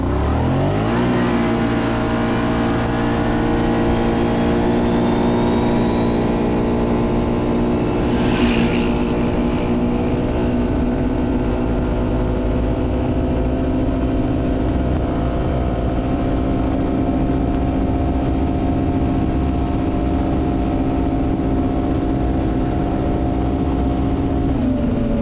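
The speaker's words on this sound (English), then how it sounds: "time for the top speed run. We're here on an empty gravel road. Let's see what this thing can do." A 2024 Kawasaki Brute Force 750 ATV in two-wheel-drive high makes a top speed run on an empty gravel road, its engine revving up and holding a loud, steady drone for a long stretch, close and continuous, with no talking.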